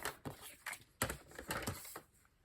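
Cardstock for a stamped greeting card is cut with a paper trimmer, a few short sharp scraping and clicking strokes close by, fairly quiet with brief pauses between them.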